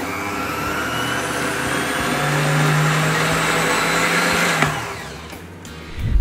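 An electric hand mixer whirs steadily through lemon cake batter with lemon zest and lemon oil, a loud continuous motor drone that dips briefly before stopping near the end, with no speech.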